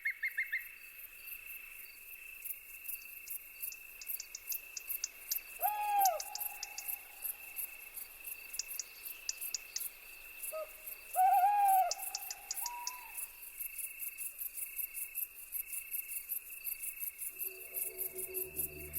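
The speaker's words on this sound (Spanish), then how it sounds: "El gran duque, el poderoso búho real, caza en los campos de cultivo." A Eurasian eagle-owl hoots twice at night over farm fields, deep hoots standing out clearly against a steady, continuous chorus of crickets and insects.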